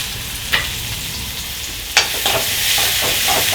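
Shallots, onions and curry leaves fry in hot oil with a loud, continuous sizzle and crackle, punctuated by a couple of sharp utensil clinks against the pan.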